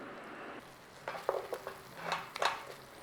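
Tomato paste cooking in a pan for rajma, a soft steady sizzle with several scraping, tapping stirs of a utensil against the pan, close but fairly quiet, with no talking.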